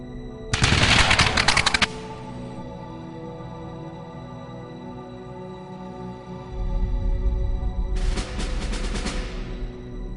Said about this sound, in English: This time, the shots find their target.